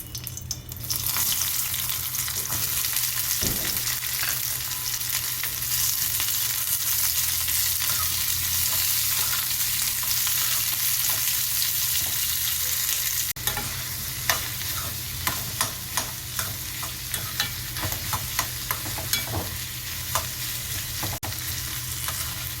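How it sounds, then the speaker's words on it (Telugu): Sliced onions fry in oil left from frying green chillies, a steady close sizzle running throughout with stirring scrapes and clinks that grow sharper and more frequent in the second half; no voices. "పచ్చిమిరపకాయలు ఫ్రై చేసుకున్న ఇదే ఆయిల్లో ఉల్లిపాయలను కూడా ఫ్రై చేసుకోవాలి"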